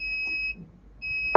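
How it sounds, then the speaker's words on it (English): An electronic alarm beeps indoors, two shrill high-pitched tones, the first lasting about half a second and the second starting after a short pause, loud and close. "Sorry about the beeping."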